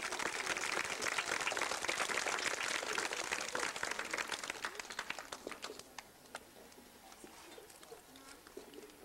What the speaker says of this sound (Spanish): Recibámonos con un fuerte aplauso